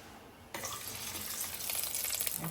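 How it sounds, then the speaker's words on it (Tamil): Fenugreek seeds hit hot oil in a pan, with a sudden bright sizzle that stays loud and steady after a short quiet start, and no one speaking. "எண்ணெய் காஞ்சதும் கொஞ்சம் வெந்தயத்தை போட்டுக்கலாம்."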